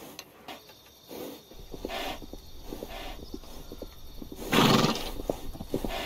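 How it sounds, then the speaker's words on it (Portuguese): A horse whinnies loudly near the end while hooves clop in a steady, uneven rhythm throughout, with snorts and shuffling close by. "Horse."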